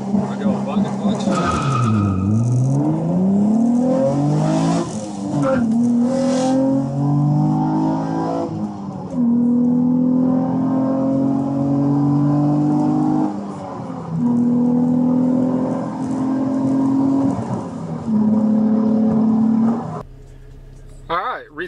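An Infiniti G35 with a manual clutch revs in launch control. The engine climbs and dips in pitch, then settles into sustained, loud holds near 4,000 RPM before cutting off abruptly, with voices faintly present.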